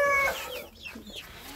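Farmyard chickens clucking close by, a few short throaty clucks and squawks from hens near a run where they have dug their way in, heard alone without talk.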